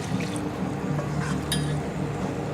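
Water poured into a pot of chicken salna curry in a home kitchen, a soft, close splashing and trickling fill with a few brief clinks.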